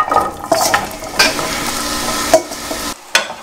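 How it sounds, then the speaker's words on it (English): Onions sizzle in melted butter in a pan as they are stirred, with steady frying hiss and several sharp scraping strokes and clinks, close and fairly loud, no talking. "Toss in a nice chunk of butter. Swirl it around, let it melt. And once that's done, add all of our onions."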